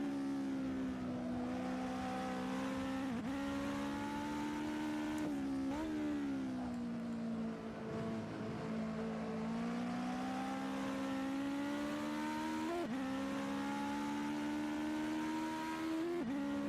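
Race car engines in the Assetto Corsa driving game, droning steadily and continuously up close with pitch rising and falling through gear changes and throttle lifts, no talk over them.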